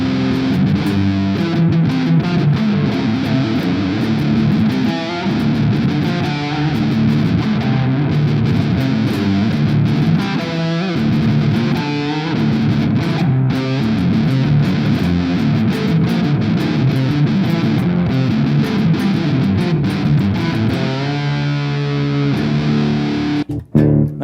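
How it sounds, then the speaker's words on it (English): Fender American Standard Stratocaster electric guitar with a humbucker, played through heavy distortion: sustained loud chords and riffs ringing continuously, with a brief cut near the end. "like how the humbucker would sound compared to the Strat single coils with distortion."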